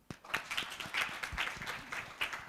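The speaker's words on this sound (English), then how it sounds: "Let's clap for them." A workshop audience at a future ideas conference claps for partner organisations, a brief burst of moderately dense handclapping at mid distance, steady for a couple of seconds with no voices over it.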